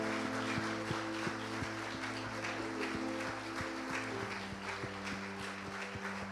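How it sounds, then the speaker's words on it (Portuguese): A church congregation claps along over sustained keyboard or organ music, sharp rhythmic claps landing steadily through the whole stretch at a fairly loud level. "Vamos aplaudir Jesus"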